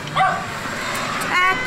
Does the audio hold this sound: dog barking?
yes